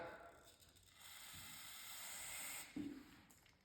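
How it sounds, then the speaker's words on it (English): Carburetor cleaner sprayed onto snowblower carburetor jets, a quiet close aerosol hiss lasting a couple of seconds before cutting off, followed by a small thump. "Get your carburetor cleaner, spray them out with that."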